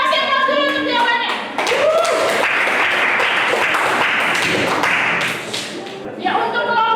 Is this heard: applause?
yes